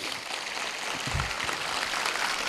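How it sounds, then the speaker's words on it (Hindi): Applause from a coaching-institute audience for the President, a continuous wash of hand claps with no break, fairly loud and close throughout. "एक बार हमारे राष्ट्रपति महिला के लिए ताली बजनी चाहिए।"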